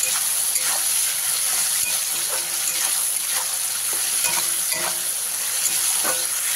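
Chopped tomatoes with salt frying in a pan over a medium flame, a dense continuous sizzle with soft scrapes and stirring clicks from a spatula, close and steady with no talking.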